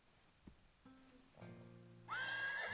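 A horse whinnies in the fantasy adventure game The Dark Eye: Chains of Satinav, a faint high neigh rising near the end after quiet tones and soft ambient game sounds.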